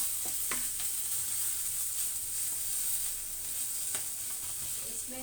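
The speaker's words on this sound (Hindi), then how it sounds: "अब हमारा वेजिटेबल कुक हो रहा है" Vegetables cooking in a pan, a steady hissing sizzle broken by a few light clicks of a spoon against the pan, with no voices.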